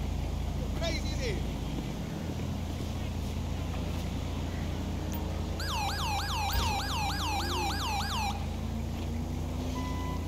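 An ambulance siren in the video game Grand Theft Auto 5 wails in a fast rising-and-falling pattern for a few seconds over steady game background noise.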